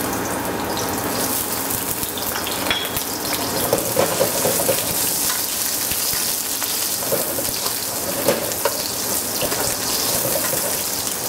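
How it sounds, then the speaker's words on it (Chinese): Ginger and onion stir-fry in hot oil at the start of a pig feet and peanut stew, a soft continuous sizzle with a few faint clinks from the pan. "就放了油，把姜葱炒一下。"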